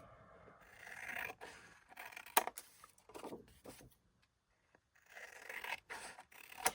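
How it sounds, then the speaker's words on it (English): Scissors cut along lines in patterned paper, close and quiet, with a few separate snipping and crisp scraping strokes broken by short pauses. "all I'm going to do is cut off along those lines"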